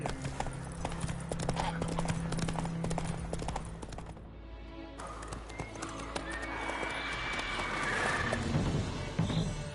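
A horse in Witcher 3 gallops off with a fast, steady clip-clop of hooves and an occasional whinny, mixed with game ambience.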